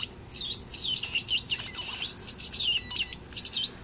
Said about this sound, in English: to make it sound like a bird or something, you lightly move your finger